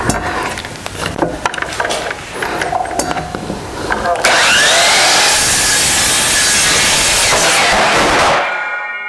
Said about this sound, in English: So I can just put it right here on the miter saw and perform the cut.